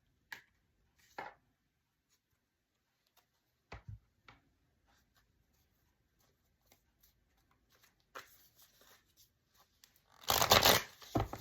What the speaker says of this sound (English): My tarot cards.